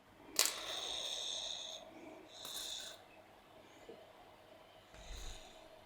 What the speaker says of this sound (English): we are going to do some spray foaming